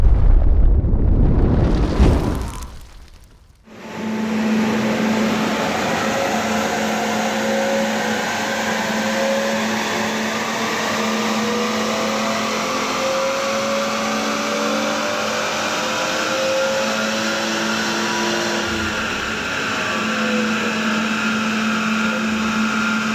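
A BMW 540i with a B58 engine, stage 2 mapping, decat downpipe and Shell V-Power fuel runs hard on a two-wheel-drive dyno, a loud sustained engine roar that holds steady after a brief dip near the start.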